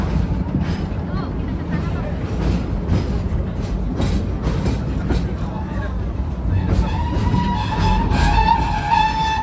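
An open-air safari train ride at Busch Gardens Tampa Bay's Serengeti rumbles along steadily while a guide narrates over the engine and wind.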